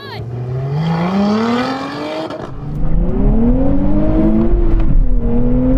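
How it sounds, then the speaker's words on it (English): Sports cars including a Nissan Z, Toyota GR Supra, Lotus Emira and Porsche Cayman GT4 accelerate hard from a drag race start, engines rising in pitch through gear changes, loud and close. "Come on, keep on accelerating, Watson."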